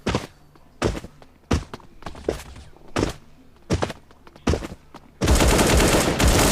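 AK rifle fire in the video game Bullet Angel comes as short separate bursts spaced about a second apart, each a sharp loud crack, ending in a sustained dense volley.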